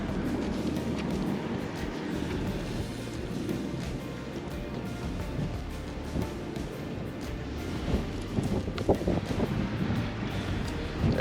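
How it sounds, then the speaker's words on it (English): Strong outdoor wind gusting against the microphone, a steady rough roar that swells and buffets throughout, with no clear voices over it. "Kind of got a little bit of a wind, some heavy wind right now."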